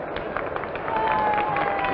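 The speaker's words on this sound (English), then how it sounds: "The crowd responds with some applause" A large crowd at a 1960 World Series baseball game applauds in a steady, distant, broad wash of clapping that swells slightly midway, with a faint tonal whistle or voice trace running through.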